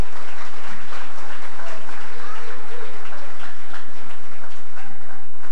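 Audience applause fills the room at a talk on Haitian youth and economic and political sovereignty: a loud, dense, steady wash of many hands clapping, sustained evenly for several seconds.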